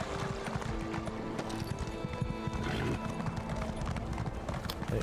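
Horse hooves clip-clop steadily in the video game Elder Scrolls Online: Morrowind, a quick continuous rhythm of close hoofbeats with a whinny layered among game sounds.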